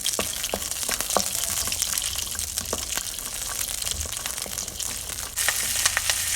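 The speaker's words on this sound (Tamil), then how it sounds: "சுண்டக்காய் வெடிக்கும்," Turkey berries pop and crackle as they fry in hot oil, sharp irregular snaps scattered over a continuous sizzling hiss.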